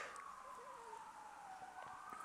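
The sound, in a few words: emergency vehicle sirens passing outside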